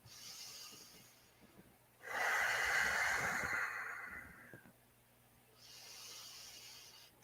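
A slow, deep breath taken while holding a yoga plank in a post–jiu-jitsu session, a breathy airy inhale-exhale swelling for a couple of seconds, then a softer second breath, close and fairly quiet.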